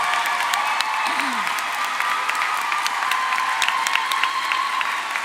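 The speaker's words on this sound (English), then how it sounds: "give them a round of applause" A graduation ceremony audience of families and guests applauds, a steady, even wash of many hands clapping throughout, with no pause and a faint voice briefly heard in the crowd.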